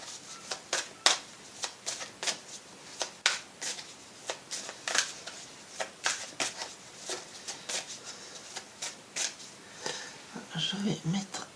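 A deck of cards is shuffled for a tarot-style card reading, giving a quiet run of soft, rapid riffles and slaps in repeated bursts close to the listener, with faint rustling between them.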